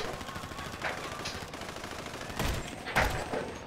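Game gunfire in Grand Theft Auto V Online, short SMG bursts rattling through a busy in-game soundscape, with two louder volleys near the end standing out over the constant background din.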